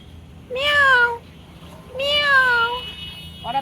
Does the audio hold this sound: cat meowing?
yes